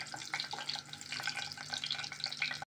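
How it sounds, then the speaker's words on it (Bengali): Garam masala and bay leaves frying in hot oil, a continuous close sizzle with small crackles and a faint stir, no voices. "মশলাটাকে আমি একটু ভেজে নেব, তাহলে ফ্লেভার ভালো আসবে।"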